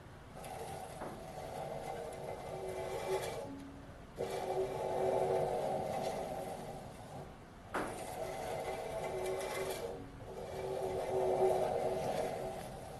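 A 4x6 metal bandsaw blade rasps steadily through metal in repeated strokes, each pass a grinding whir, with short pauses and clicks between them, close and fairly quiet.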